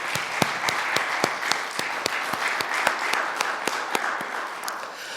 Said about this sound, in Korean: 우리 하나님 앞에 영광의 박수 다시 한번 돌려드리겠습니다.